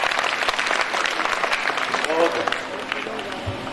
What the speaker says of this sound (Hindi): एक बार जोरदार तालियों से मुझे हौसला दीजिए